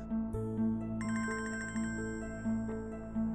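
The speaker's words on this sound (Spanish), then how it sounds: "están llamando a su teléfono" A telephone rings in a dramatic indoor scene, a bright electronic ring repeating in short regular bursts over a low musical background, close and clear, with no voices.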